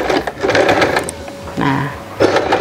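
A portable sewing machine stitching with a presser foot fitted, its needle chattering in quick loud bursts that pause briefly and start again, while a person talks over it.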